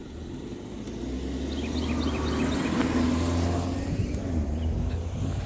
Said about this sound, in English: a car is coming.